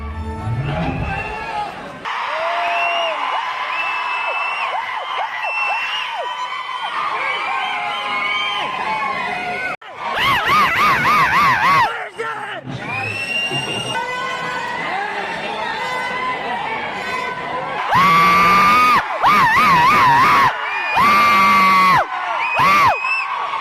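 A cinema audience at a screening of the Pawan Kalyan film OG screams, whoops and cheers loudly and continuously, with surges of shouting over loud film sound and music.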